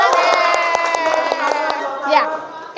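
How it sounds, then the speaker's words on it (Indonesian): Classroom of students clapping in quick rhythmic bursts and cheering, lively and close, with children's voices shouting over the applause. "Tepuk tangan buat kelas"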